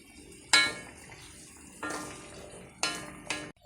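A spoon or spatula scrapes and clatters against a pan while raw jackfruit is stirred and mixed. The sound comes as four separate close strokes, alone in a quiet kitchen.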